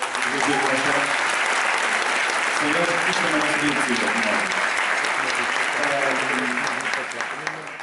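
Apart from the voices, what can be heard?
auditorium audience applause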